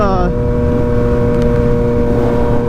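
Yamaha MT-09 motorcycle riding on a warm day, a steady loud engine drone with strong low harmonics, a brief rising rev at the start, running continuously throughout.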